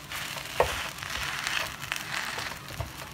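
Scallion pancake (pajeon) batter sizzles quietly in an oiled pan, a steady soft frying hiss with a few louder crackles and pops, heard alone.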